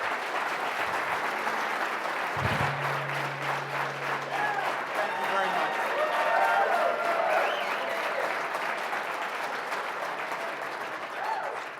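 Steady applause and cheering fill a large hall as the CFL Commissioner is welcomed to the stage during a Halifax event, the crowd noise holding loud and continuous throughout.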